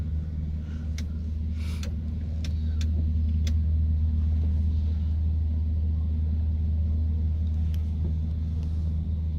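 Steady low engine rumble and road hum inside a moving Mercedes car, continuous throughout with faint ticks and rattles, no talk.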